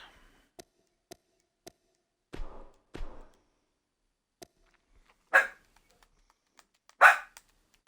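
A dog barks a few times indoors: a couple of short muffled barks, then two louder sharp barks spaced apart, with faint ticks and clicks in between and long quiet gaps.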